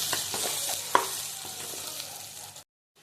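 Onions, green chillies and turmeric frying in hot oil in a kadai while being stirred, a steady broadband sizzle with a few scraping clicks of the spoon, close and moderately loud, ending abruptly in silence.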